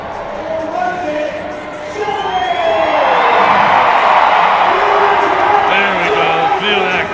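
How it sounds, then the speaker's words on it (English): Crowd at a Party Animals versus Texas Tailgaters baseball game in Reno, Nevada, swelling into a loud roar and cheering with whoops, a commentator talking over it. "Feel that crowd roar."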